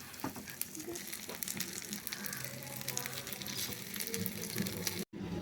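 Kuzhi paniyaram batter fries in oil in the wells of a paniyaram pan as the pieces are turned over, giving a continuous close sizzle with light scraping and clicking throughout.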